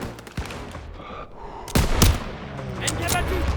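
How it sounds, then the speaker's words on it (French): Gunfire in the World War II shooter game Call of Duty WWII, with several sharp shots and a heavy burst in the middle against a background of battle noise. "J'ouvre le feu."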